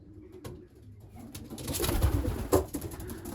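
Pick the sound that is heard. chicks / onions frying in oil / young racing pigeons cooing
young racing pigeons cooing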